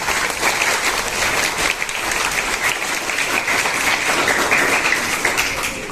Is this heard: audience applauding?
yes